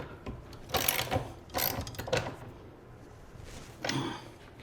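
Tightening the upper bolt on a Dillon RL1100 reloading press: a few short bursts of metallic clicking and ratcheting, close and fairly loud, with quiet pauses between.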